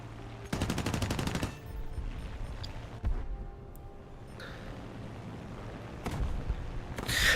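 50 caliber aircraft machine guns fire in War Thunder, a rapid, loud burst of chattering shots at the start, followed by engine drone and a few sharper isolated bangs and short bursts later.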